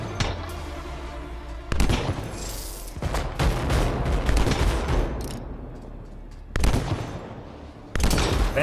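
Heavy sniper rifle shots in the game Anthem, several sharp loud reports separated by a few seconds, with explosive rumble and debris noise between them.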